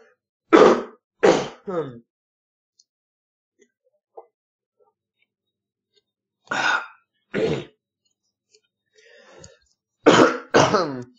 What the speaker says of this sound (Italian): la tosse